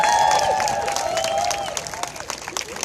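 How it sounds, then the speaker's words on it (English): Applause and cheering from a crowd at an outdoor #NoKXL rally in St. Paul, fairly loud at first and thinning out over a few seconds, with whistles and voices mixed in. "I mean a big round of applause to them"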